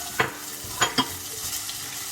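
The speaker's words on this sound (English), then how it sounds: "And then I'm just going to add the potatoes." Potatoes drop into hot oil with crackled mustard seeds and dry red chilies, giving a few soft stirring thumps over a quiet, low sizzle.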